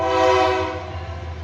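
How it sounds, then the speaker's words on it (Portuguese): A passing train sounds its horn in a loud, sustained chord of stacked tones that swells and then eases over the engine rumble, with no voices. "só esperar o apito principal, a passagem principal do trem"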